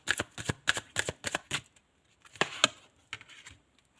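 Tarot cards shuffled by hand in quick riffling bursts, several sharp rhythmic flurries, then a pause and a few more crisp card snaps as cards are drawn, close and clear.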